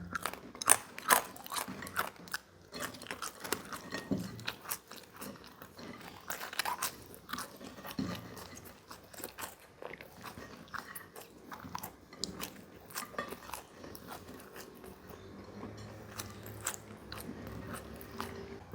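Someone eats McDonald's fries up close with soft, repeated crunchy bites and chewing, faint and irregular, continuing steadily for nearly twenty seconds without talk.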